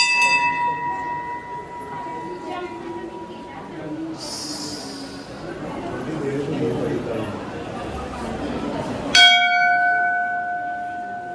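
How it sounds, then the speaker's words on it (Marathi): A large temple bell at Shri Dev Vetoba temple in Aravali rings during an anniversary celebration. A sustained ringing tone at the start fades into crowd murmur, then a loud, sharp strike rings out and hums on clearly to the end. "घंटा वाजतो जोरदार टन टन"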